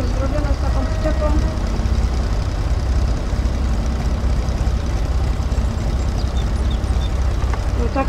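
A tractor engine runs steadily and loudly throughout while towing a trailer loaded with 60 hay bales up a small hill, its wheels spinning for grip; a continuous low, heavy rumble fills the whole stretch.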